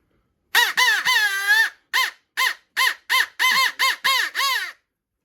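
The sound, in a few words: crow call being blown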